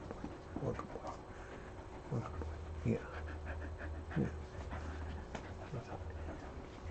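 A male dog pants and whimpers in short bursts close by, while a person nearby talks to it in a warm, soothing voice.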